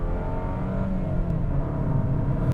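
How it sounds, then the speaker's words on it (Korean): Volvo XC40 small SUV engine revving, forced to high rpm in manual mode with an eight-speed automatic, a steady close droning rise with harmonic whine held over a low rumble, no voices. "자, 회전수를 강제로 좀 끌어올려 볼게요."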